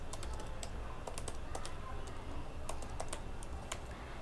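Code being typed on a computer keyboard for a PHP and MySQL e-commerce website, with steady rapid keystrokes and scattered louder clicks, close and alone with no talking.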